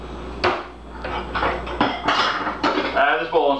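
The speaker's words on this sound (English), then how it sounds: "So I'm going to get a bowl and a spoon because I forgot to." Bowl and spoon being fetched in a kitchen, with a series of sharp dish and cutlery clinks and knocks close by, spread through a few seconds alongside quiet speech.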